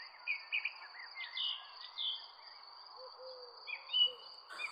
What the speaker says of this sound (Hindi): तभी दूर किसी जंगल से बहुत सारे पंछी घूमते घूमते लाडो चिड़िया के जंगल में आ जाते हैं।